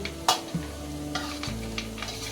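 Onions fried for poha being stirred in a pan, a close scrape of a spoon against the metal over a steady sizzle, with a few sharp clinks.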